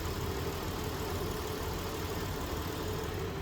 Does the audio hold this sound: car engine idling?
yes